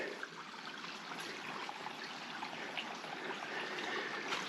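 A spring-fed creek running beside a single-track hiking trail, a steady broadband rush and trickle of water, moderately close and continuous, with no voices.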